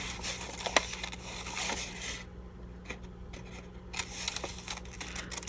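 Scissors snip through paper labels with a few quiet, irregular cuts and rustles close by, separated by short pauses.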